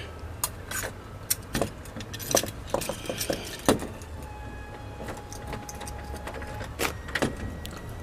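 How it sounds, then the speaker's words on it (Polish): Keys jangle and clink as they are taken from a lockbox and a door is unlocked, making intermittent close metallic rattles and clicks over a steady low background hum. "Klucze są w boksie. otworzymy."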